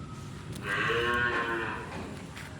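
Cattle on a home farm lowing once, a single long, fairly close moo as the cows return to their pen, with faint farmyard background around it.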